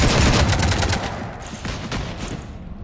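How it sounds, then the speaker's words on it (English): Dense rapid gunfire rattles aboard a ship in Mass Effect 3, loud at first and then thinning into scattered shots and echoing bursts over about three seconds, with no speech. "You want to stop shooting up my ship?"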